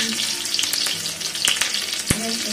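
Green chillies hit hot oil in a pan for chhole, giving a bright crackling sizzle up close with quick spoon taps and scrapes.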